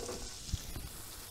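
Garlic and sage sautéing in butter in a cast iron pan, giving a soft, steady sizzle close by with one brief knock partway through.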